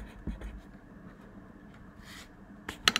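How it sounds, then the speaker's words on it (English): A pencil writes a name on paper in a quiet classroom setting. It makes faint, soft scratching strokes, with a few sharper scrapes toward the end. "I'm going to put the name on the paper"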